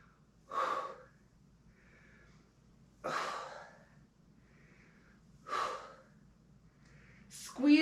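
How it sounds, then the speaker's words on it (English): Audible breathing during a strength exercise, four slow breaths spaced a couple of seconds apart, each a soft breathy exhale close to the microphone in a quiet room. "Breathing out as those arms go up, in as they come down."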